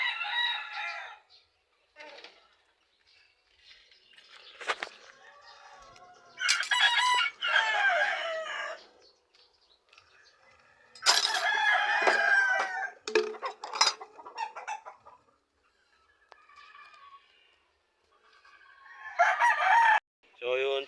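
Chickens and a rooster on a backyard plot cluck and crow in several loud, close bursts with quiet pauses between, the crows ringing out repeatedly across the scene.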